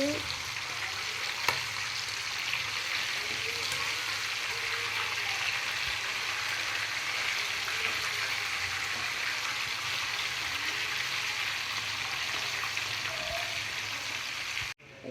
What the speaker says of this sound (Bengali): চিকেনটা এখন আমি উল্টিয়ে দিব